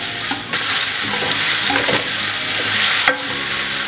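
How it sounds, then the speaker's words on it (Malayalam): Onions salted and frying in a pan for Punjabi chicken, a loud, steady sizzle near the mic, broken by a few stirring scrapes and soft clinks, with no one speaking. "നമ്മുടെ സവാള ഏകദേശം ഒന്ന് മൂത്ത് വന്നിട്ടുണ്ട്."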